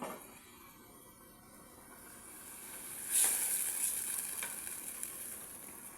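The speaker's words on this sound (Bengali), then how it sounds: "পেঁয়াজগুলো ভাজা হয়েছে হালকা একটু পানি দিয়ে দিলাম মরিচটা কষানোর জন্য" Fried onions and chili sizzle in a pan after a splash of water goes in, a steady hiss that flares louder midway and then settles into continuous frying.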